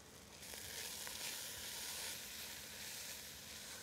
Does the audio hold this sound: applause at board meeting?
no